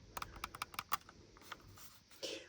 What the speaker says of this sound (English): but doesn't give the same clicky sound as this other button